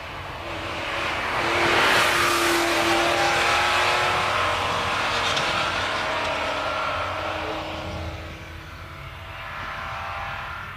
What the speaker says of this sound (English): The Pantera is climbing, followed by another Porsche 911.